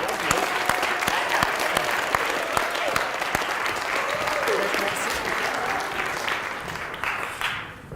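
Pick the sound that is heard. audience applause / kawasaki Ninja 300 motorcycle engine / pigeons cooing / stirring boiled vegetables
audience applause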